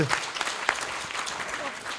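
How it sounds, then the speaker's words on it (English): An audience applauds at a gathering, steady crowd clapping with a voice talking over it, moderately loud and continuous. "while we're applauding, I'm gonna give Avi Davis a applause"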